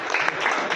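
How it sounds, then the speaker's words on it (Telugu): An audience at an e-bike business opportunity meeting claps firmly, a brief dense burst of applause heard close up. "ఏడిఎంఎస్ యజమాన్యానికి ఒకసారి గట్టిగా క్లాప్స్ ఇస్తాం."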